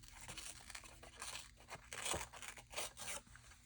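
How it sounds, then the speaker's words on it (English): Paper ripped by hand for a haunted-conservatory craft project, a series of short, close tearing bursts in an irregular rhythm, quiet overall with no talking. "I think I'm just going to rip more."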